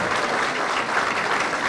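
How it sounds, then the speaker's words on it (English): An audience at the Procter R. Hug High School ribbon cutting applauds public servants with steady, dense clapping that stays even and full throughout. "let's give a round of applause for all of our public servants"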